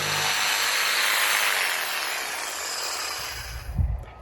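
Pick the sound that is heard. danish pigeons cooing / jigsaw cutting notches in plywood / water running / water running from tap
jigsaw cutting notches in plywood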